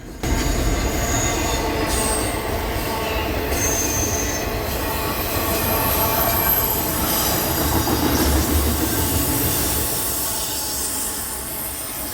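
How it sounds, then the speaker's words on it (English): Freight train locomotives and cars roll past on the Lehigh Line near Newark, New Jersey, wheels shrieking in sustained high squeals over a loud, continuous rumble of heavy rolling stock, close by with no talk. "This is probably the most common locomotive on the railroad."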